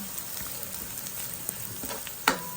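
Tinapa, smoked fish flakes, go into a pan for ginataang santol, raising a steady soft sizzle of frying with light stirring and one sharper clatter near the end, no talk.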